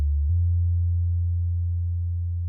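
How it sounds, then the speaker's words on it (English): Modular synthesizer voltage-controlled oscillator hums a steady low pure tone that steps slightly in pitch near the start, then holds evenly and loud, alone with no voices. "we're going to feed it the audio out from this VCO, this voltage controlled oscillator."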